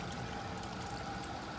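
Water pours steadily back into a hydroponic rain gutter system growing cucumbers, a continuous quiet splashing stream heard alone throughout.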